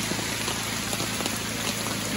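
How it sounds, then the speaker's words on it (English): Steady rain falling on a tent in beaver country, a dense continuous patter of drops with no talk. "It's raining."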